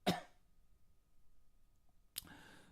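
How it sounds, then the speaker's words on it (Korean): Two short, hoarse coughs from a preacher during a church sermon, one at the start and another about two seconds later, close to the microphone with quiet room tone between them. "오늘 제가 말씀 중에 기침을 너무 많이 해서 죄송합니다."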